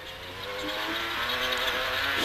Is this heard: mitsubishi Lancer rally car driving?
yes